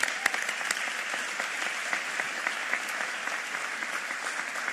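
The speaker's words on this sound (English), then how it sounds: "That's a round of applause." Audience applause at a mayor's public speech, a steady dense wash of many hands clapping at moderate distance, continuous and unbroken with no voices over it.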